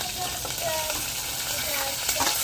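Onions, green chillies and tomatoes frying in a pan for mango rasam, a steady close sizzle with stirring scrapes throughout, no talk over it.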